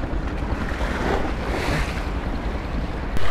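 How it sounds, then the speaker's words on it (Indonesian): Large ocean waves roll and wash on the coast near a sunken mosque in Jakarta, a loud broad surf roar mixed with heavy wind buffeting the microphone. "Ombaknya kok lagi gede ya?"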